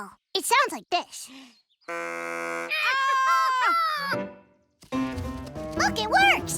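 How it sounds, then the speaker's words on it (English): Cartoon scene of a homemade deer call blown in camp: a buzzy, sustained honking tone with wavering pitch, set among animated voices and chirpy vocal sounds. "A deer call. It sounds like this."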